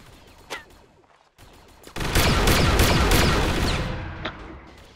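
Rapid automatic gunfire from a machine gun in an online multiplayer game, starting loud at about two seconds and rattling on in a dense burst, with softer scattered shots before it.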